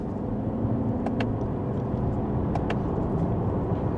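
A 2025 Toyota Camry XSE sedan accelerates in sport mode, heard from inside the cabin as a steady low engine and road drone with faint clicks.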